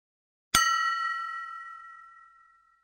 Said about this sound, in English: On hitting the glass with a little more force, the glass made a louder sound